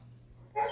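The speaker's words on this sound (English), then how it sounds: "You may hear a couple of barking dogs in the background" A dog barks once, briefly, in the background, fairly faint against a low steady hum in a quiet room.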